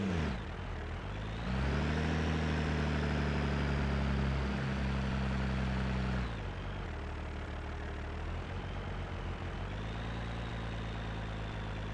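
Tractor engine idling steadily in the Cattle and Crops farming game, a continuous low rumble that revs up briefly near the start, with a slight shift in tone midway, no voices.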